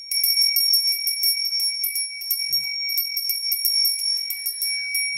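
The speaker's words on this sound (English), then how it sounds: "This is my Ganesh bell." A Ganesh bell rung continuously to clear energy: loud, rapid, shimmering strikes with long bright sustained tones, heard alone apart from one brief soft thud midway.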